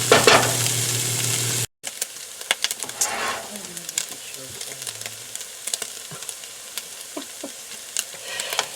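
Leftover pork roast warming in a pan, with a steady close sizzle broken by a brief silent gap, then continuing crackle and scattered pops and stirring scrapes.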